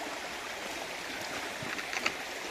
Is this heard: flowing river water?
yes